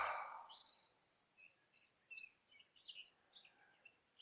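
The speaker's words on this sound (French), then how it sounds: "les oiseaux chantent" Birds chirp and sing outdoors, with scattered light, faint calls over a quiet background after a brief louder noise at the start.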